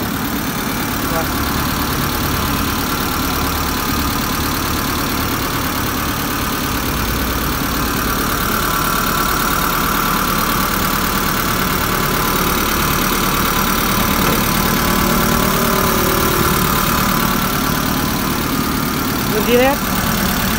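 The original petrol engine of a Japanese-import Mitsubishi 2.5-ton truck idles steadily in a low, even rumble, with a faint knocking texture running under occasional talk throughout.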